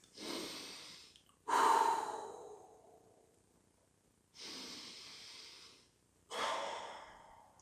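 A person breathes deeply and slowly, with two long inhale-exhale cycles that are close and quiet and separated by near silence.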